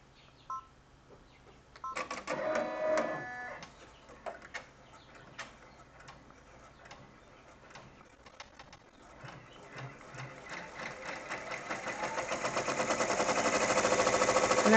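Embroidery machine stitching an insect garden hanger with batting and no show mesh stabilizer, a fast, even mechanical rattle of needle strokes that builds gradually and grows louder and denser toward the end.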